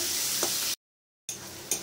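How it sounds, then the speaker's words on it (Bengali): Ground onion paste fries in hot oil in a pan for a rui fish curry, a close, steady sizzle with a faint stir, cut off by a brief silent gap before the sizzling resumes. "বাটা পেঁয়াজটাও ভালো করে ভেজে নেব।"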